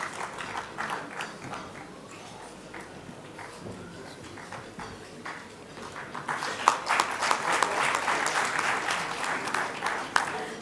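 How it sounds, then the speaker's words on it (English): A convention audience applauding, scattered claps that build into dense, sustained clapping across a large hall. "Let's have a round of applause"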